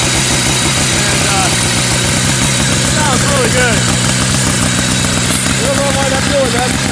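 1970 Arctic Cat Panther snowmobile engine with a Wankel reproduction exhaust, idling with a steady loud mechanical rumble and some whining tones throughout.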